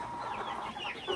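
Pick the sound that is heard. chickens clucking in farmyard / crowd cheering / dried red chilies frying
chickens clucking in farmyard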